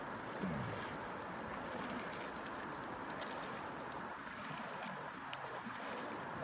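Continuous rushing, burbling river water heard up close while hikers wade across on foot in the 100 Mile Wilderness, a steady broadband wash with no talking.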